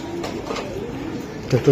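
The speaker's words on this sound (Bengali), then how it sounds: "এই যে এলো কবুতর" Soft, low cooing of racing pigeons close by, with a louder burst of cooing toward the end.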